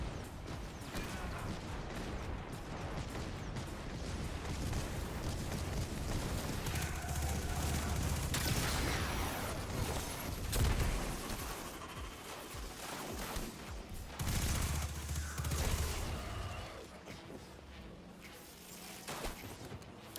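Sniper gunfire in the video game Destiny 2, heard as a dense, continuous clatter of shots and mechanical clicks with low booming bursts, layered over game ambience at steady loudness.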